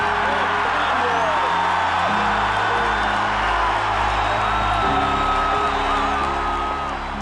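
A large stadium crowd at Kinnick Stadium roars continuously, a loud dense wall of cheering with whoops and yells rising above it, while a voice talks over the din.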